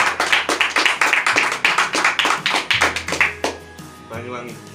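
Audience clapping at an official ceremony, a run of sharp, fairly loud rhythmic claps from a smaller group close by, fading out near the end as a voice speaks over it.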